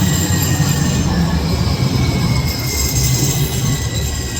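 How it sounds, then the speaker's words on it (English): An inbound Blue Line light rail train passes close and loud, its wheels giving a sustained high squeal over a heavy, continuous rumble. "As we see an inbound Blue Line train head toward Salt Lake Central"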